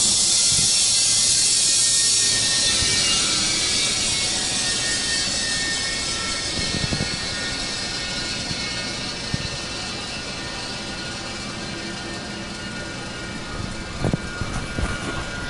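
A Fieldpiece MR45 refrigerant recovery machine runs loud and continuous, a rapid mechanical rattling hum with a hissing edge that eases slightly over time, punctuated by a few faint clicks.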